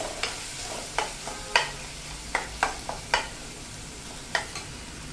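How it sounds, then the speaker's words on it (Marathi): Dal fry ingredients being sautéed in a pan, with a spoon scraping and stirring in sharp, irregular strokes over a soft, steady sizzle, close and moderately loud, with no talking. "अजून छान परतून घेऊया"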